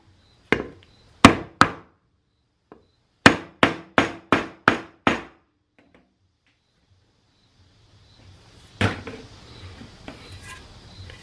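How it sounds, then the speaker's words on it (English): Hammer taps drive a seal into a 47RE transmission pump, two early sharp metallic strikes then a quick run of five more evenly spaced blows, followed by quieter handling clatter and rustle. "we can flip it over and go ahead and put our seal in"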